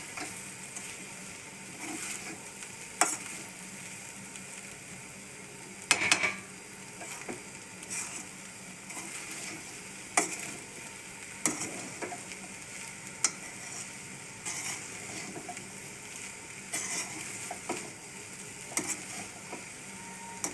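Vegetable rice simmering in a pan on a gas stove, with a steady low sizzle and occasional stirring clicks and scrapes scattered through, fairly quiet and close, with no talking.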